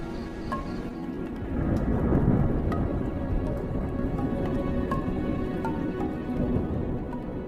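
Thunder rolls through a forest storm where wildebeest graze, a deep, drawn-out rumble that swells and fades over steady rain patter. Faint scattered ticks and drips sit on top.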